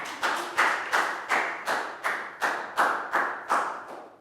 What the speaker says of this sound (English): Big round of applause for Net.